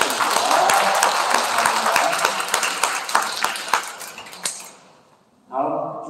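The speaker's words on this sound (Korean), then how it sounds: "뜨거운 감사의 박수 한번 부탁드립니다" Warm applause from a parish congregation for the music, dance and blessing-prayer volunteers at a Catholic charismatic prayer meeting; loud clapping gradually thins and fades out, then a voice begins speaking.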